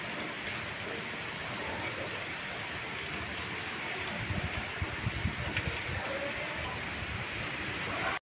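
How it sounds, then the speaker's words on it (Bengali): Rain falls during a storm around a house where water is coming in: a continuous close patter and hiss of drops on surfaces, steady and moderately loud, with a few stronger splashes midway. "বৃষ্টি যতক্ষণ না দাঁড়াবে, মানে বৃষ্টি না কমবে ততক্ষণ জল মানে নামবে না"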